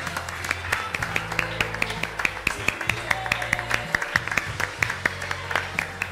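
A crowd claps in sustained applause, sharp overlapping hand claps with a voice speaking over it.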